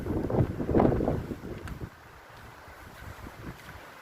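Loud wind roars and buffets the microphone for about two seconds on a high beach hillside at Kandingon Beach, then eases into a softer, steady rushing hiss.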